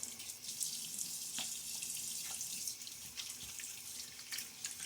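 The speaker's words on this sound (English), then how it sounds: "A little splash of water now." Water runs from a sink tap during a wet shave with a Gillette razor, a faint steady hiss and splash with a few small spikes of water hitting the basin.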